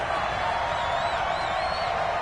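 A stadium crowd roaring at Arrowhead in a football video game, a dense, steady wash of cheering and noise with a whistling tone riding on top, constant and fairly loud throughout.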